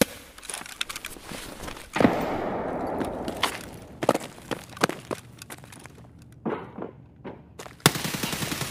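Gunfire in the video game Escape from Tarkov: several sharp bursts of automatic fire, loud and close, separated by gaps with faint footsteps and ambient game noise, no speech.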